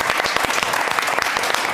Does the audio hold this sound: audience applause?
yes